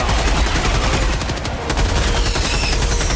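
Sustained automatic gunfire in Helldivers 2, dense and continuous at full loudness for the whole span, a steady rattling barrage with a brief dip near the middle and no talking over it.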